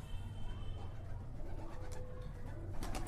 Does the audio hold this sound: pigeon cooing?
yes